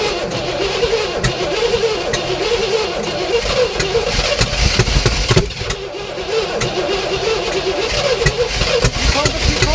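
A 1967 Oldsmobile Toronado project car's engine runs and idles in a rough, uneven rumble nearby, with people talking over the steady engine noise.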